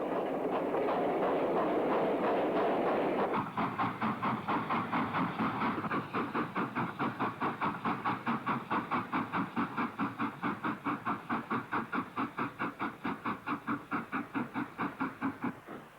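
A 9F steam locomotive pulls away with a freight train at Bromsgrove, at the foot of the Lickey Incline. Its exhaust beats rapidly and evenly, close and prominent, continuing as the engine gets under way.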